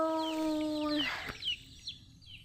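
A chicken's drawn-out call followed by a few short clucks, fairly close in a quiet outdoor setting.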